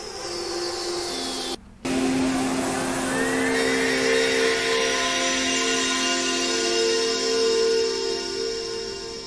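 Synthesized atmosphere sounds built in VCV Rack, sliced and sped up: a dense, loud, continuous drone with sweeping rising and falling tones, briefly cut to near silence for a moment before resuming steadily.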